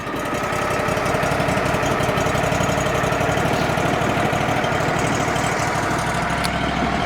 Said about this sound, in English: start the mill up. Didn't even need to choke it today. We'll give it a second to warm up.